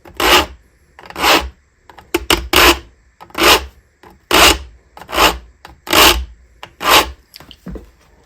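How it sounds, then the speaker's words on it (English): An old hand saw's teeth are being sharpened with a metal file, giving steady rasping strokes, about nine in a row with short pauses between them, loud and close with no voices. "if it's a rip cut saw, you file 90 degrees to the saw blade"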